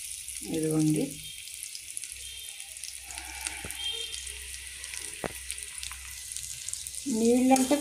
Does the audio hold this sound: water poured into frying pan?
yes